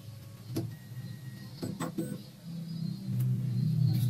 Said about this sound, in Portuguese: Eu não tinha ligado a impressora, vou ligar agora.